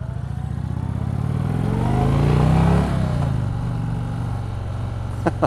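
An Indian Chieftain motorcycle engine rumbles low and close as the bike pulls away on the clutch without throttle. The note swells slightly, then settles into a steady thrum, with a couple of sharp clicks at the end.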